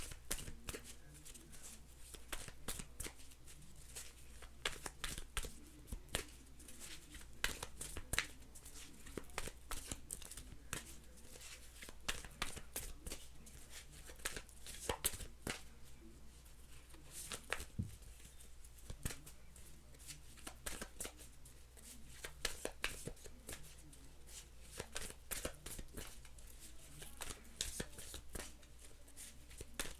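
Continuous close-up card shuffling, soft papery riffles and taps repeating steadily over a low background hum.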